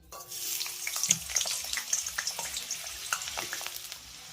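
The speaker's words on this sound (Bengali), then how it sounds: "এবারে আমি গরম তেলের ভিতরে অ্যাড করব কেটে নেওয়া আলুগুলো" Cut potatoes drop into hot oil in a pan and sizzle steadily with crackling pops, close and fairly loud, with no voices present.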